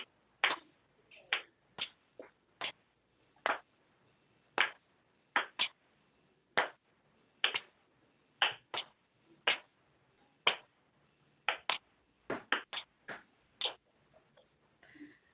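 Workshop group clapping and slapping their laps together in unison, sharp percussive hits in an irregular pattern of single and paired strikes, fairly close, with no talking.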